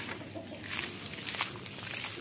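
Chickens cluck softly in a busy barnyard at a small zoo, their calls scattered among rustling and shuffling noises.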